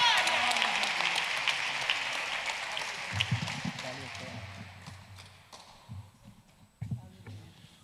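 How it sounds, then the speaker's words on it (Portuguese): Applause from a church congregation fills the opening seconds, then fades as scattered thumps and low sounds take over. "Com a salva de palmas vamos receber o evangelista Tiago Tavares"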